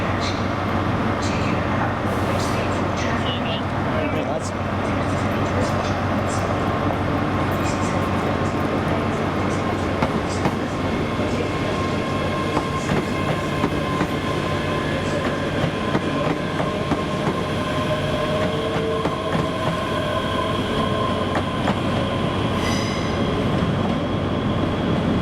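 Class 385 ScotRail electric train at Glasgow Queen Street station, a steady rumble with faint wheel clatter and squeals under platform ambience, loud and continuous throughout, with some voices in the background.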